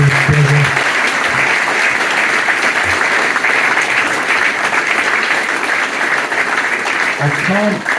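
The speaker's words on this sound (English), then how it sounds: "round of applause for Raf." Loud, sustained audience applause fills a live retro gaming event hall after a talk by game developer Raf Cecco, steady clapping throughout with a few brief voices breaking through near the start and end.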